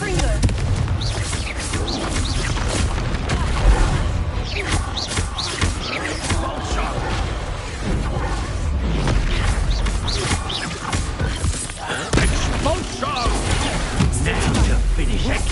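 Spell explosions and booming impacts from a Confringo fire spell in the video game Hogwarts Legacy, dense and continuous, mixed with combat noise and battle effects with talk throughout.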